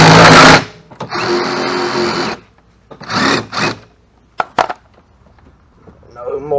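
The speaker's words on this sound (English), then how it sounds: "Just gonna get them tightened down." Power tool or wrench work tightening bolts back down after changing front suspension bushings on a car, heard as a loud burst, then longer whirring runs and short clicks, with quiet gaps between them.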